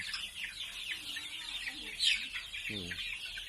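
Month-old domestic chicks cluck and cheep softly nearby, with a brief louder chirp midway and a low rough call near the end over faint background noise.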